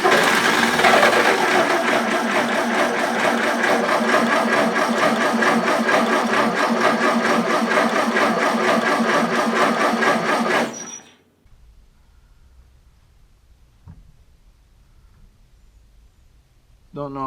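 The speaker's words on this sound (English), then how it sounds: "let's pull the choke and see if we can get her to sputter to life." A 1931 Plymouth engine with the choke pulled cranks loudly for about ten seconds in a steady rhythmic churn, trying to start, then stops, leaving near silence with a faint knock.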